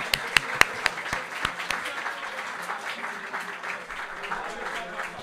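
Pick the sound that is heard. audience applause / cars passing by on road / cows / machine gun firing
audience applause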